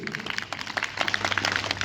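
Students at a Republic Day event at Gurukul Aryanagar in Hisar applaud in a dense burst of clapping that builds and grows louder toward the end, with a low hum beneath.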